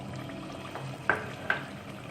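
Soft sizzling of tomatoes frying in a pan for beef korma, with a couple of brief stirring clinks against the metal.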